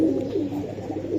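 A single brief, low coo comes from a Giribaz pigeon, close and clear, with no voices over it.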